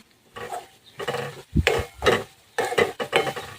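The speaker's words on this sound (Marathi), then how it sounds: "कमी गॅसवरतीच छान अशी ग्रेव्ही भाजून घ्यायची व्यवस्थित" Karela gravy roasting in a pan over low gas, with scraping and stirring strokes in uneven bursts of a second or so, a soft sizzle between them; close and fairly quiet, no voices.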